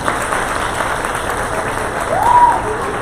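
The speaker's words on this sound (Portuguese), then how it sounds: "uma salva de palmas para a nossa bióloga" Steady applause from an audience at a lecture with a deputy, a broad wash of clapping at even loudness that swells slightly near the end, with a brief tonal whistle-like sound over it.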